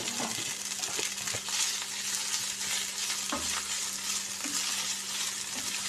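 Onions fry in a pan for rice with hotdog, giving a steady close sizzle with occasional scraping stirs and light clinks throughout.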